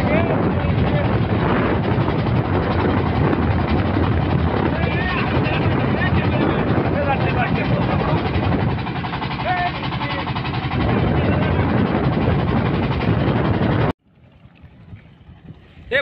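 A boat engine drones loud and close during a river boat ride, a steady broadband roar mixed with wind buffeting, with voices talking over it before the noise cuts out abruptly near the end.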